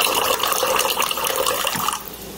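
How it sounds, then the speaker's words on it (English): Water from a Brio hot and cold water cooler pours steadily into a container for about two seconds, then cuts off, leaving faint background hiss. "So you gotta hold on to the button so the water comes down."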